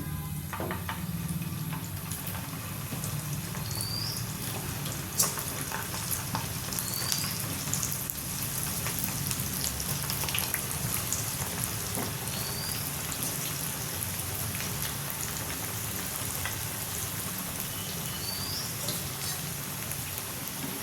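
Soya chunks deep frying in a pan of hot oil make a steady, dense sizzling hiss that runs unbroken for about twenty seconds, fairly loud and close, with faint bubbling and no voices.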